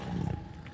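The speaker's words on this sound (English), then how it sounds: "Ooh, I hear dinosaur roars." Cartoon dinosaur roar from a children's animated show, a short, loud growling roar lasting under a second, rising then easing off, heard alone without talk.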